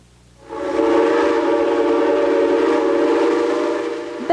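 A historic train on the Eureka Springs and North Arkansas Railway sounds a long, loud whistle, a sustained multi-tone blast that holds steady for several seconds after a quiet start.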